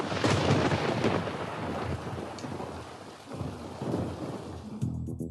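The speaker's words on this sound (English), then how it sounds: "Oh well, it's raining." Steady heavy rain with rumbling thunder rolling underneath, loud and close, fading slightly near the end.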